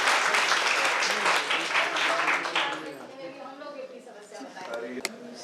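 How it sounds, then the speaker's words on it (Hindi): Loud applause from a seminar audience on higher education fills the first half, then fades to scattered claps while a voice begins speaking over it. "मैं उनसे एक बार पुनः अपने सभी साथियों के साथ गुजारिश करूंगा कि एक जोरदार तालियां बजाएं"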